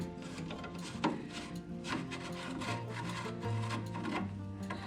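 A screwdriver twisting a rusted plug out of a vehicle's drag link, a close, grinding creak of metal on metal with uneven scraping turns and some low rumbling underneath, no speech.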